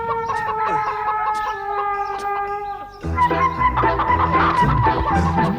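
A hen clucks and squawks nonstop while being chased in a rural film scene, loud and close, turning more frantic and agitated halfway through, with no talking.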